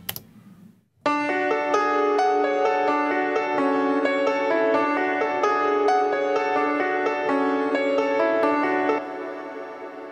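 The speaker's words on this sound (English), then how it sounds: "My third reverb is my cathedral, which I use on the piano theme for this particular song" Sustained piano theme drenched in a long, bright, shimmering cathedral reverb, chords ringing densely and evenly for several seconds, then the tail lingering softly after the playing stops, with no voices.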